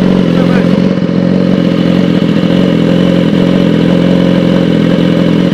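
A BMW S1000RR superbike with full carbon parts runs loud and close in a steady, throaty engine drone with a rough clattering texture, holding near one level throughout.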